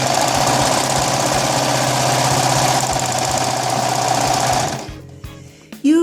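A sewing machine runs steadily at speed, stitching a close-edge hem on a chiffon prom skirt, loud and near before stopping abruptly with a few faint handling sounds.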